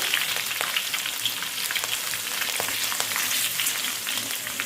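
Ginger garlic paste with green chilies sizzles steadily in hot oil as it fries to light golden, a continuous dense crackle with small pops throughout and no voices.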